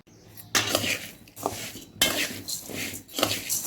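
Metal pan and utensils clink and scrape in bursts as dry whole spices, coriander seeds among them, begin dry-roasting for a Kolhapuri red chutney, close and fairly loud with short pauses between strokes.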